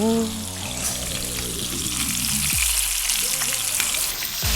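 Steady, loud sizzling of chicken tabaka frying in a hot pan, with a continuous crackling hiss and no talking.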